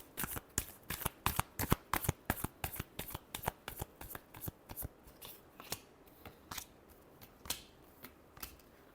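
Tarot cards being riffled and shuffled by hand, a quick run of sharp crisp card flicks, close and clear, slowing toward the end with no talking.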